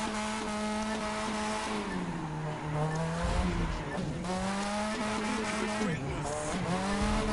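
Mazda RX-7 Spirit R tires squeal steadily through a long drift in The Crew 2, the strained engine note wavering up and down beneath a continuous, loud screech.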